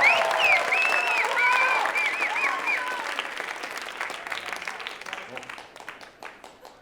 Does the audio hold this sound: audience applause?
yes